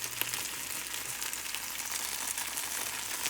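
Food frying in a pan during a cooking demonstration, a steady, fairly quiet sizzle and crackle with no talk over it.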